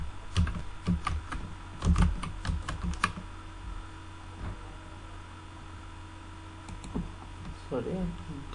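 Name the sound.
typing on a computer keyboard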